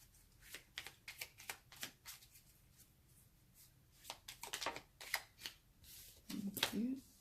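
Oracle cards being shuffled by hand in short riffling bursts, close and soft, stopping and starting, with a brief low voice near the end.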